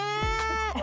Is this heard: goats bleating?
yes